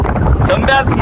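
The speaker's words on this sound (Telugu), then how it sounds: "ఇప్పుడే తెలుస్తుంది ఇంత గాలి వస్తుంది ఒక ట్రైన్, టన్నెల్లోకి ఒక ట్రైన్ వస్తే అని" Strong wind roaring through a railway tunnel near Rapur ahead of an approaching train, a steady loud rushing gust with buffeting on the microphone, while someone talks excitedly over it.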